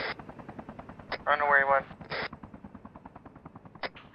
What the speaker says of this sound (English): Yeah, I hear gunshots up there.